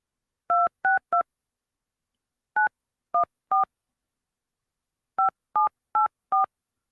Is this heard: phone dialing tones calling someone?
yes